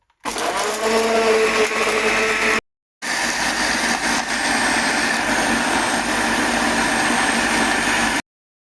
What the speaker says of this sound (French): Je vais rajouter un peu de sel et mixer le tout.